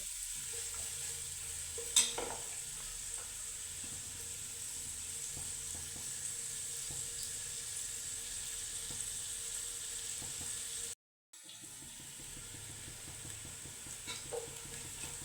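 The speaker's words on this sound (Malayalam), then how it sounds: "പിന്നെ ബാക്കി ഗ്രേവിക്കുള്ളതാണ് ഇപ്പോൾ ഇളക്കിക്കൊണ്ടിരിക്കുന്നത്." Gravy for a small fish biryani for four is stirred in a frying pan, with a steady sizzle and occasional spoon scrapes throughout, briefly cut off near the end before frying resumes.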